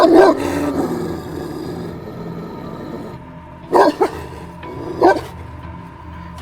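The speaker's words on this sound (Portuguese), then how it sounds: "latiu e rosnou quase que instintivamente" A hunting dog snarls and growls, then lets out short loud barks in separate bursts with quieter gaps between them, used as a sound effect in a horror story.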